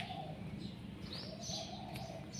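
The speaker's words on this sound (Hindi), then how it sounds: "ज़रा गौर से फाख्ता की आवाज़ को सुने।" A dove calls softly among other birds in the botany department grounds of Ghazi University, faint cooing and chirps over steady low outdoor background.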